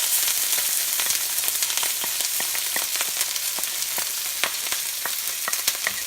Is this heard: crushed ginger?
yes